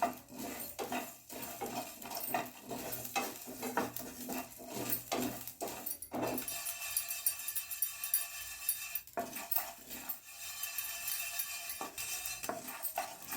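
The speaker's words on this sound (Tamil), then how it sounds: "படப்படன்னு கடுகு பொரிய ஆரம்பிச்சிருச்சு" Mustard seeds pop and splutter in hot oil over medium heat while making homemade Chettinad-style sambar powder, a dense run of sharp crackles and clinks with a loud burst midway, continuing close and steady with no talking.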